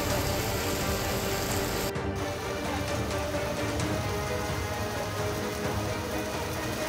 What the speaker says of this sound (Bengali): তারপরেই শুরু হয়েছে হালকা থেকে মাঝারি বৃষ্টি বিভিন্ন জায়গায়